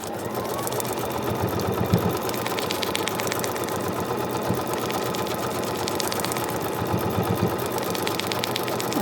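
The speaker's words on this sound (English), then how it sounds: "Take that over to the machine and get that sewn on." Domestic sewing machine stitching a foundation paper pieced quilt block, a steady rapid mechanical chatter with motor hum running continuously and close by, no talk.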